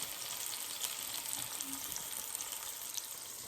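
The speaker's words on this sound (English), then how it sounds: "So I want to show you the sear on this little pork tenderloin" A small pork tenderloin searing in a Cuisinart pot gives off a constant, even broadband sizzle, close and steady throughout with no voices.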